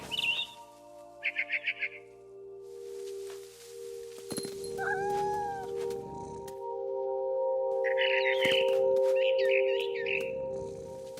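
A cat in the video game What Remains of Edith Finch meows and caterwauls in drawn-out cries over a steady tonal hum, with short chirping bursts before and after the cat.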